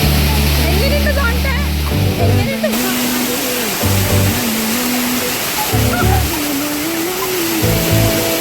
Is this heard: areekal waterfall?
yes